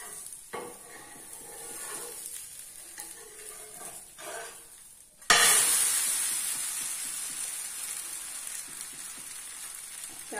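Butter dosa cooks on a covered iron griddle, giving a quiet crackle that jumps into a loud, steady sizzle and hiss that slowly fades over several seconds.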